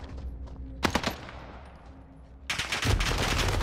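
Rapid automatic gunfire in Call of Duty Warzone on the Caldera map, a loud burst of shots, a pause, then another sustained volley close by.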